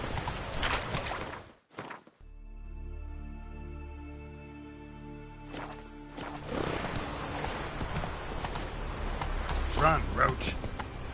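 Geralt's horse Roach gallops in The Witcher 3, with rhythmic hoofbeats around a spoken voice and a sustained tonal stretch in the middle before the hooves pick up again.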